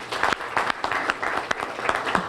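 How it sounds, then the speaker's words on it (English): A school audience claps for the students at Jack Robey, a dense, steady round of applause from a crowd filling the room without a break. "Join me in a round of applause for all our students at Jack Roby"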